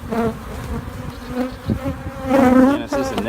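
Honeybees buzzing at an opened hive box during an inspection before a tropical storm, a steady close drone that swells louder near the end, with no talk.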